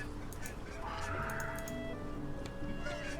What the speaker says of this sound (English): Look at that weird ass bird.